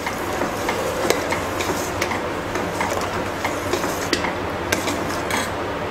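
A spoon working through kheer in a metal pot, a run of close scraping and clinking strokes in an irregular rhythm over a steady background hiss, with no one talking.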